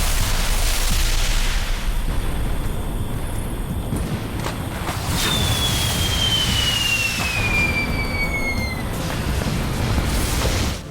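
Booming blasts and rumbling explosions in the video game Defense Zone 2 roll through a dense, noisy mix, with a long descending whistle streaking across the middle like a falling projectile.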